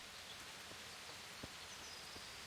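Soft, steady rain hisses quietly in the medieval role-playing game Kingdom Come: Deliverance, an even wash with a few faint thumps and no voices.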